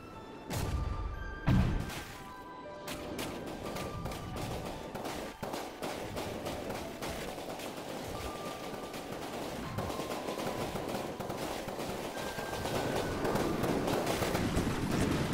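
Cram cannon shells fire repeatedly in From the Depths, a steady barrage of loud booming blasts and impacts with clattering debris throughout, dense and continuous with no talking.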